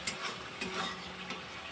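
Spices frying in oil for a vegetarian aloo dum, with a quiet steady sizzle and a few soft scraping stirs, faint and close, no voices.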